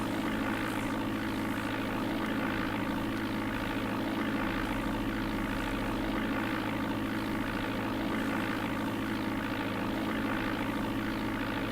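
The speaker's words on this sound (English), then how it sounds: "I've heard this engine sound so much" A propeller aircraft engine in the DOS game Flight Simulator 4 drones in a steady, loud, rhythmic hum that runs continuously without interruption, with no voices over it.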